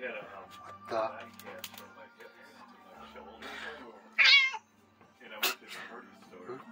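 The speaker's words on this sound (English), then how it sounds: "That's the cat that screamed at me." A cat lets out a sharp, loud yowl partway through, with another shrill cry near the end, both cutting through people talking nearby.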